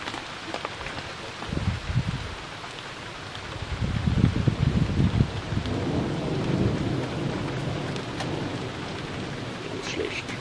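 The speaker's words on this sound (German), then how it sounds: "dann nehmen wir mal das Gewitter auf" Thunderstorm with steady rain and rolling thunder building from low rumbles into a sustained, loud roar, continuous through the whole stretch with no voices.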